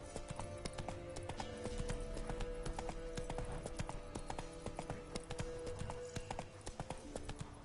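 Geralt's horse Roach gallops in The Witcher 3, a steady, loud clip-clop of hoofbeats running continuously over layered game music and ambience, with a brief whinny.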